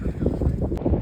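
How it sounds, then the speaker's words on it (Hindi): Strong wind on a mountain trek toward Vasudhara Falls near Badrinath buffets the microphone in a loud, low, continuous rumble with gusty surges. "बहुत तेज हवा चल रही है भाई"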